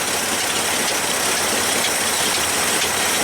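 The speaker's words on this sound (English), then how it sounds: "Yeah, it's definitely misfiring out of one of those cylinders." A 1978 engine idles after two years unstarted, a steady dense rumble with a light rattling tick running through it from a misfiring spark plug cylinder, close and continuous.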